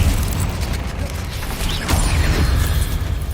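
A Confringo blasting spell explodes in the video game Hogwarts Legacy, a loud booming blast with heavy low rumble and mechanical crackle filling the moment.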